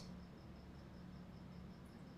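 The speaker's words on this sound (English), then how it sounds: "Enjoy the crickets." Crickets chirping in a steady, evenly spaced pulse, faint and distant over a constant low hiss of background noise.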